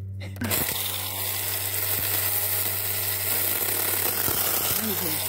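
A steady motorized drone with a low hum runs nonstop, a small power tool cutting through a tree branch in a backyard, with a few faint clicks and crackles layered on top.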